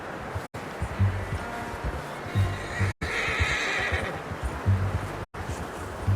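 A horse in the video game Red Dead Redemption 2 whinnies and neighs loudly several times, with hooves clip-clopping and brief silent gaps between bursts.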